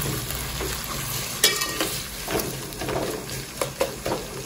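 Onions frying in hot oil for masoor pulao, a continuous close crackling sizzle with a few sharp stirring clicks and scrapes, no speech.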